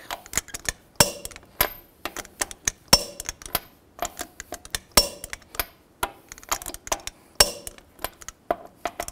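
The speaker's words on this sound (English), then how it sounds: "now I'm gonna torque these lug nuts in a star pattern or cross pattern to 140 foot-pounds to tighten the wheel down evenly" Lug nuts on a 2004-14 GMC Yukon wheel are tightened with a torque wrench in a star pattern, giving a close series of sharp metallic clicks and ratcheting ticks in irregular bursts, with a few louder snaps.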